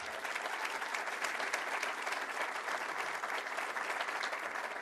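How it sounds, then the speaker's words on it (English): Steady, dense applause from an audience at a governor's legislation announcement, filling the whole stretch at an even level with no talk over it. "Let's give them another round of applause as well."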